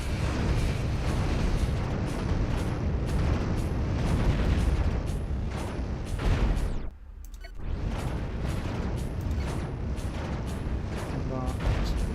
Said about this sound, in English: let's hit the big cannons.